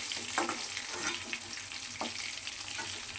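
Chicken pieces frying in a pan for garlic chicken gravy, giving a close, even sizzle broken by a few soft stirring taps, with no talk.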